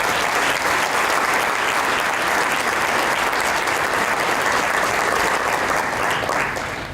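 Sustained, dense applause from a large audience fills the hall at a 2018 graduation ceremony in Rwanda. It stays loud and even throughout, then begins to thin just at the end, with no speech over it.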